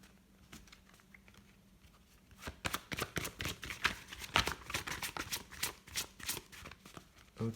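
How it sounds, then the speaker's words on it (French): A deck of tarot cards is shuffled by hand, a quiet start followed by a rapid run of crisp riffling flicks and patters for several seconds, close up with no talking. "je mélange très mal mon jeu."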